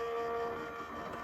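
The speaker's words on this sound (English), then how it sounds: "I do like that you don't have to hold down the reverse button on the Sizzix machine." A Sizzix die-cutting machine runs in reverse, giving a steady motorized whir with a droning tone, close and fairly quiet, with no speech over it.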